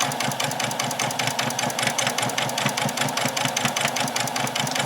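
A sewing machine stitches a doll's dress, its needle chattering in a fast, even mechanical rhythm close by, steady and loud throughout with no talking.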